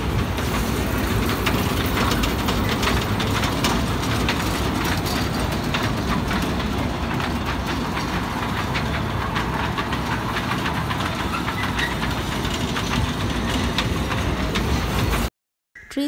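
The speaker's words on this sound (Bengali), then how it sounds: "ওরা বায়না করলো যে মানে ট্রেনে উঠবে, এরকম বেবি ট্রেনে" A small kiddie ride train for children runs at an outdoor fair, its engine rumble and rattling wheels a loud continuous clatter that holds steady before cutting off sharply near the end.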